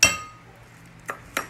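A metal utensil clinks against a bowl while chicken salpicao is stirred, one sharp ring followed by two lighter knocks, close and clear with no voice.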